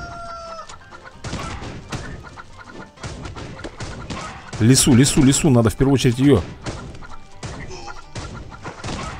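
Loud game chickens in Swamp Attack 2 cluck and crow in a burst near the middle, while someone speaks excitedly over the game sounds.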